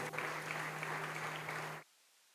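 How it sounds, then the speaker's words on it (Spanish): A church congregation claps loudly together during a worship service, a dense steady burst of applause that stops abruptly after about two seconds. "Dele el aplauso fuerte a Dios."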